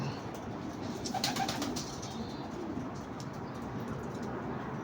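Pet pigeons coo softly at close range in a loose, low, burbling murmur, with a faint rustle and a brief flurry of wings over a steady outdoor background. No one speaks.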